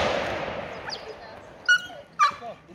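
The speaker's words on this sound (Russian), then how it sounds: "Да посмотри на эту собаку." A dog out in a flowering meadow near Schaffhausen, Switzerland, gives two sharp, high whimpering yips about half a second apart, close by, after a fading background rush.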